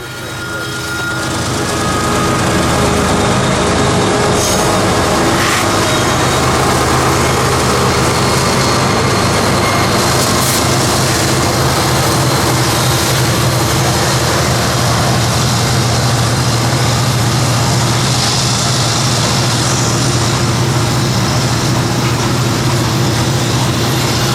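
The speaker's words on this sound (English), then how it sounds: "206 is a sizable train this afternoon with a big cut of crushed limestone" A long freight train hauling crushed limestone and scrap metal rumbles past steadily, a loud continuous roar with deep engine drone and grinding wheel noise that swells in within the first seconds and holds.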